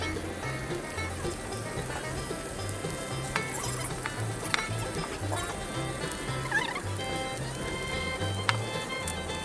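Eri silkworm pupae fry with salt and turmeric in a pan, a continuous loud sizzle with scraping stirring strokes and occasional clinks of the utensil against the pan.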